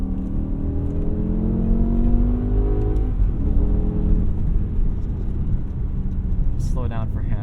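A 2008 BMW E60 M5 with a catback exhaust and secondary cat delete drones loudly from inside the cabin, its engine note climbing and falling as it revs, while people talk over it.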